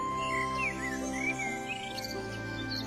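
A flock of cartoon birds chirps and tweets in quick, overlapping calls over a steady musical background, fairly close and continuous, with no talking.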